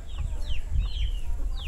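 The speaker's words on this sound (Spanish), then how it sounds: "Free range chickens." Free-range chickens cluck in short, repeated calls over a steady low outdoor rumble, with several high chirps scattered through the sound.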